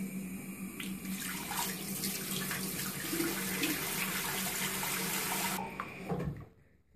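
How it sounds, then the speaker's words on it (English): Tap water runs steadily into an ultrasonic cleaner tank for about six seconds, a loud even rush that cuts off near the end, with a short spoken remark over it. "Let's put some water in it."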